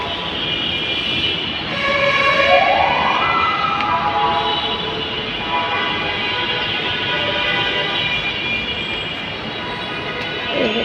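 A metro train at a metro station, with a loud, steady electric hum and a rising motor whine as it gets moving, close by and without clear speech.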